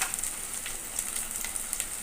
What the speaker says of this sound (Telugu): ఇందులో 1 స్పూన్ అల్లం వెల్లుల్లి పేస్ట్ యాడ్ చేసుకోవాలి. పచ్చివాసన పోయేంత వరకు వేయించుకోవాలి.